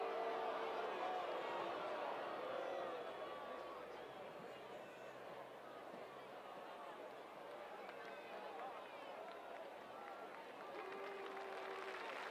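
At a Texas UIL high school football state championship, a stadium crowd keeps up a steady, dense roar of voices and cheering, and a commentator talks over it.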